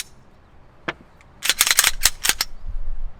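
A Glock 17 pistol is cleared close by, with a couple of isolated metallic clicks followed by a quick flurry of sharp snapping and racking sounds from the handgun's action.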